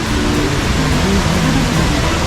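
Rain falling near a cave on a trek, a steady dense hiss that stays even throughout with no voices.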